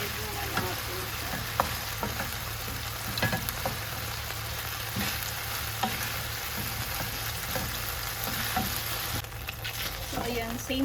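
Shrimp sautéing in a pan with mixed vegetables, a steady close sizzle and frying hiss with repeated scrapes and clicks of a utensil stirring throughout, no talk.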